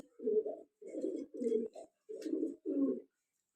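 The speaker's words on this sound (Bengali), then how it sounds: "ড্যানিজগুলো দেখেন খুবই সুন্দর, ড্যানিজগুলো ডাকাডাকি পারতেছে।" Danish pigeons coo in a series of six low, throaty bursts with short gaps between them, close and clear, with no talking over them.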